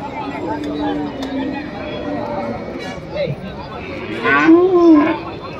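Holstein Friesian calves moo at a busy cattle market, with several drawn-out calls and one louder, closer low bellow near the end, over steady crowd chatter and people talking nearby.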